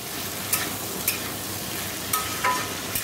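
Chickpeas with chana masala stir-frying in a pan give off a continuous soft sizzle, punctuated by several sharp clicks of a spoon scraping and stirring, close and steady.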